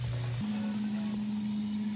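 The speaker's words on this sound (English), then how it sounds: "and then turn on the water once more" Steady rushing tap water runs into a sink while a makeup sponge is rinsed under it, close and continuous with an even hiss and a faint tonal hum throughout.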